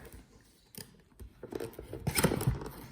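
Cardboard and plastic packaging rustle and tear as a Pokémon GO collector box with an Honor Ball is opened by hand, faint scraping and crinkling that grows busier toward the end.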